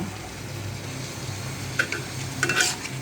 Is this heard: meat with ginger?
yes